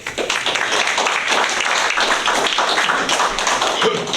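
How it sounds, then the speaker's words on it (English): A small Rotary club meeting audience gives a light round of applause, steady dense clapping from many hands held at an even level for the full stretch, with no voices over it. "so now that was a light clap"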